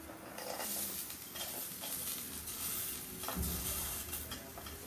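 Grated coconut frying in a pan without oil for a Mangalore-style chicken dish, a steady close sizzle and hiss with occasional stirring scrapes, no talk.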